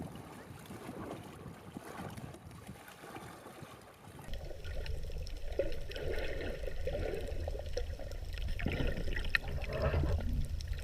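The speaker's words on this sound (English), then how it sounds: "Snorkeling in Bay of Pigs." Water sloshes and bubbles around a snorkeler in the Bay of Pigs, Cuba, a soft muffled wash that swells into a louder, steady rushing churn partway through, with no speech.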